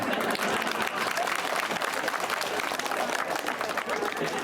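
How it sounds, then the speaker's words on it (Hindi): Dense, steady applause from a crowd of men at an election rally in Gadi Barod, Shivpuri, filling the whole clip at an even, sustained level. "अब देखो सब पुरुषों ने ताली बजाई।"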